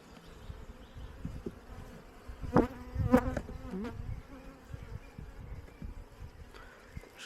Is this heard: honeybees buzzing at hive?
yes